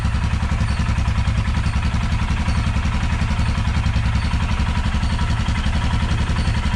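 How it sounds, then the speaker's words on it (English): A Royal Enfield Himalayan motorcycle idles with its stock dB killer fitted in the exhaust, heard up close at about one meter as a loud, even, rapid thumping that stays steady throughout. "the exhaust with the stock dB killer makes about 85 as an average"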